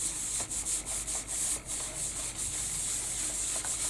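Wet wipe rubbed back and forth over a glue-coated page, a close, steady rhythmic scrubbing swish repeating in quick strokes with no voices.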